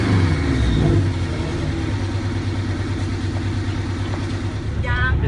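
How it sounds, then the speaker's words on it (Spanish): A Porsche 718 Boxster with a centrally mounted sporty exhaust hums with a steady, loud engine drone throughout, holding a constant low rumble with little change in revs. "En escape, ubicado en el centro, un sonido bastante deportivo que emula el modelo 718 RS60 Spyder de los años 60."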